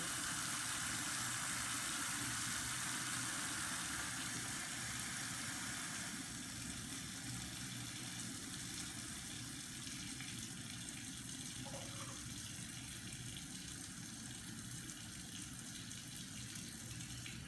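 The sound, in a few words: tap water running while adjusting temperature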